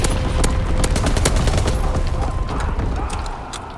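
Rapid bursts of automatic and rifle gunfire in Call of Duty WWII Team Deathmatch on the Aachen map, dense overlapping shots with mechanical clatter, loud and continuous before easing slightly at the end.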